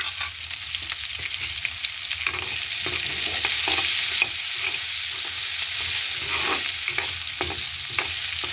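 Garlic and green chillies sizzle steadily in a hot pan while a spoon scrapes and stirs them at intervals, close up and without speech.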